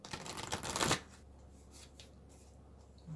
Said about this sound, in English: I'm going to shuffle up those oracle cards